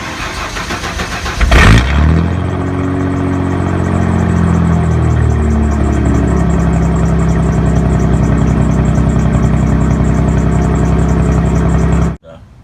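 A truck's straight-piped exhaust with the muffler removed fires up from a cold start, a loud cranking burst followed by a deep, steady, rumbling idle that holds close and strong until it cuts off abruptly.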